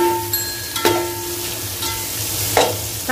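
Chopped capsicum fries in a pan with a steady sizzle, close and fairly loud. Several ringing clinks and scrapes of a spatula against the metal cut through it, with no voices.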